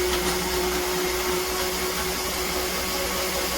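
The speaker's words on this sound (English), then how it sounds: "See, you hear grinding, but it's not frozen" A blender grinds a breakfast smoothie that isn't frozen, a steady, loud motor whine running unbroken throughout with a constant hum underneath.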